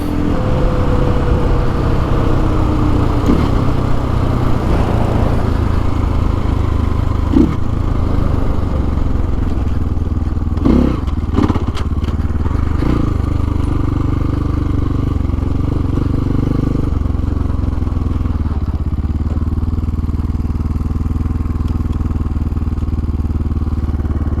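A Templar X engine runs loud and close with a steady, buzzy drone, rising through a few brief rev swells and clattery bursts before easing back, with no voices over it.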